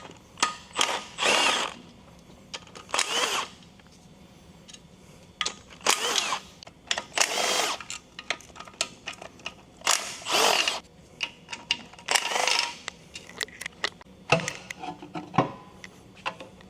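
Power tool work removing the oil pan from a failed, oil-starved Honda K20A6 2.0L turbo engine during a teardown: repeated short bursts of whirring and ratcheting, roughly a dozen spurts in an uneven rhythm, close and fairly quiet, with no talk.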